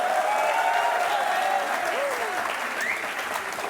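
Studio audience applause on an Indian television courtroom-style talk show, a steady dense wash of many hands clapping at moderate distance, with a faint voice briefly rising over it.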